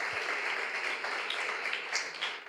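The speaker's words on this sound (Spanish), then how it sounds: "Dale un aplauso al Señor esta mañana." Church congregation applauding together during a Spanish-language Christmas service, a steady dense wash of clapping held at even loudness throughout, with a few brighter claps standing out near the end.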